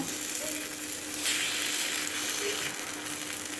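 Kuzhi paniyaram being turned with a knife in a hot paniyaram pan, giving a steady close sizzling hiss with faint scraping clicks of the blade against the metal.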